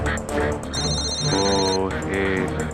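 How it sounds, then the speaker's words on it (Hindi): A phone ringtone sounds in an office during a tense meeting, a steady electronic tone with bright upper harmonics repeating over a low musical bed, fairly loud and continuous throughout. "आपका फोन बज रहा है।"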